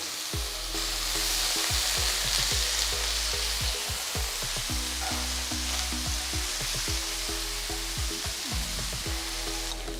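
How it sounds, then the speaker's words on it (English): Chopped brinjal hitting hot oil with spluttered mustard seeds and roasted peanuts, a loud continuous sizzle with many sharp pops and crackles scattered throughout, close up and without speech. "add the chopped brinjal pieces"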